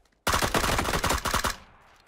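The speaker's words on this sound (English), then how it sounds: "I heard two shots from a sniper rifle." Rapid gunfire in a video game shooter: a loud burst of many close, cracking shots in quick succession, lasting just over a second, followed by a short fading tail and quiet.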